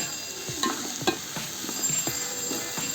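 Spices and ground turmeric, garam masala, chilli, coriander and cumin powders being stirred in a frying pan, with steady scraping strokes over a soft continuous sizzle.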